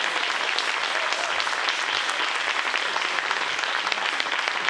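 Sustained audience applause after a performance at a concert event, a dense, steady wash of many hands clapping at even loudness throughout, with no talking heard.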